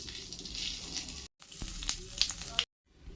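Bay leaves, dried chillies and whole cumin sizzle in hot mustard oil in a kadai, a steady close frying hiss with brief gaps and a few crackling pops.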